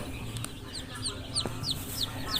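Chickens at a poultry farm cluck during vaccination, with short repeated calls rising from several birds at close range over a low background murmur of the flock.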